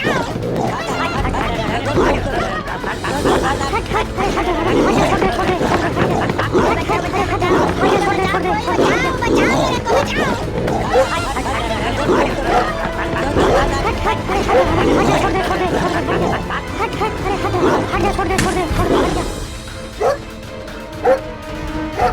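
An unleashed dog barks and yips loudly and continuously while attacking, with whimpers mixed in, over a busy background of agitated voices and chatter.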